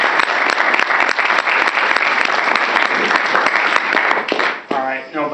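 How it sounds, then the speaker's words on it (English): A room of people gives loud, dense applause at a judging event, holding steady for over four seconds before it cuts off and a voice starts talking. "he deserves a round of applause"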